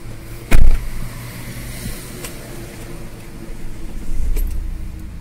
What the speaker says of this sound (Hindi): फिर से एक बार गाड़ी स्टार्ट करते हैं